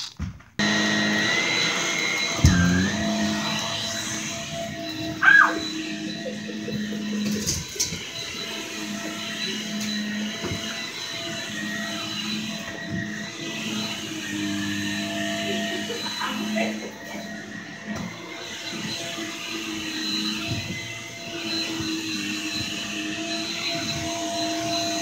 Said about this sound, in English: So I'm just about to vacuum, so I'll get back with you guys when I'm done vacuuming.